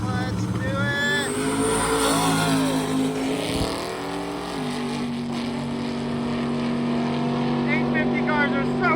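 Drag race cars in the 850 class accelerating hard down the strip, engines roaring loud and sustained with rising revs, while an announcer talks over the noise.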